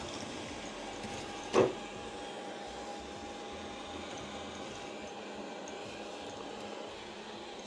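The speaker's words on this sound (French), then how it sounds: "l'aspirateur est parti à fond faire son ménage" Proscenic 850T robot vacuum cleaner running at full power while cleaning, a steady broadband whirring hum that stays constant throughout, with a single brief click or bump near the start.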